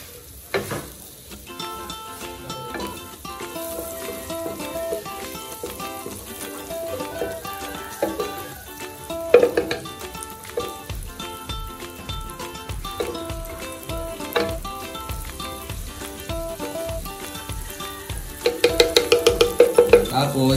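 Garlic hitting melted butter in a hot pan, sizzling steadily for beef tongue in creamy mushroom sauce, with stirring and music running underneath throughout.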